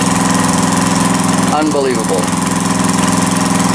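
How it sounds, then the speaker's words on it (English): Small riding lawn mower engine running steadily at idle-to-mid revs with a constant throbbing hum, close by, while someone briefly speaks over it. "apparently that little lawnmower is pretty fuel efficient because I haven't run out of gas yet"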